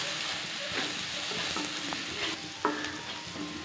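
Onion and tomato with salt sauté in a pan with a steady close sizzle and a spatula repeatedly scraping and stirring, with no talking.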